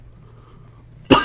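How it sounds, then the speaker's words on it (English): A single short, sharp cough bursts out at the very end after near silence, close and loud. "Trying not to cough myself to death right now"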